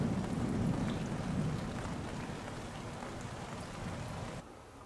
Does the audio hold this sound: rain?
yes